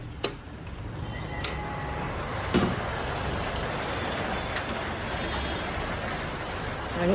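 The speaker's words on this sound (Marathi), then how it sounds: "बाहेर खूप पाऊस आहे" Heavy rain pours outside a house in a steady, even hiss, with occasional sharp drips and ticks on nearby surfaces and no voices.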